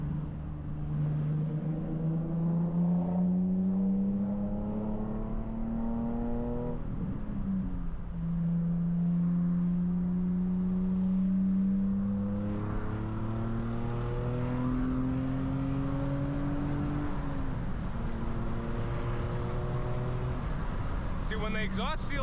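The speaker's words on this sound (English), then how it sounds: "See, when the exhaust seals up, it sounds really good." Nissan G35 fitted with ISR blast pipes revs repeatedly, its loud exhaust rising and falling in long sweeps with a steady idle beneath, while someone talks over it throughout.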